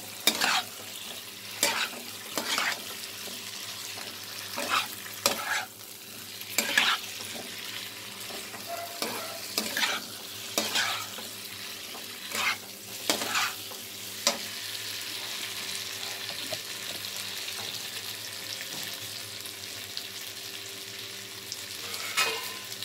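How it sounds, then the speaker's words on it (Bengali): Pointed gourd (potol) being stirred into spice paste in a frying pan makes a gentle continuous sizzle, broken by repeated spatula scrapes and knocks against the pan at an uneven rhythm. "ভালো করে পটলের সাথে এটাকে মাখাতে হবে মশলাটাকে"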